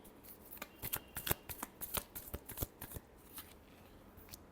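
A deck of tarot cards is shuffled in the hands at close range. A fast run of crisp riffling flicks and slaps fades into a few lighter riffles, with no voices over it.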